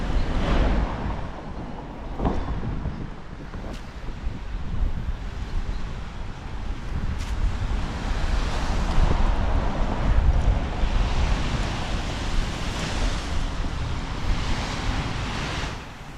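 Steady roar of monsoon-season surf breaking on Jomtien Beach, Thailand, with wind buffeting the microphone, continuous and fairly loud throughout.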